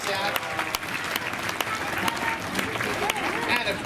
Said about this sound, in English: Big round of applause for Shalini